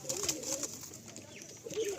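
Pigeons in a loft coo softly in repeated rising-falling phrases, near and moderately loud, with faint rustling and brief chirps behind them.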